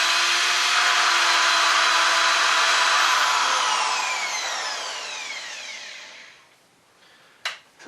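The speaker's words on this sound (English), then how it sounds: "We're going to run the drill backwards." A power drill whirs loudly in reverse while setting a hole during a brewery build, a steady high whine with its pitch sliding downward before it winds down, then a brief clack near the end.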